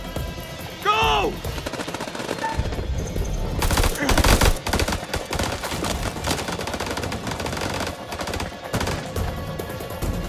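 Gunfire in a chaotic firefight in the game House of Ashes, with dense rapid automatic bursts and single shots going on continuously and loudly, with shouting voices mixed in.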